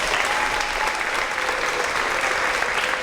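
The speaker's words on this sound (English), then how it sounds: "Let's give him a round of applause." Audience applause at a third grade school promotion ceremony, steady continuous clapping from a crowd, full and fairly loud throughout, with faint voices underneath.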